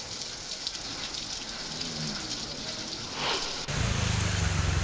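Heavy monsoon rain falls in Navi Mumbai as a steady, fairly loud wash of hiss, then the scene cuts abruptly to a louder, rumbling downpour for the last second.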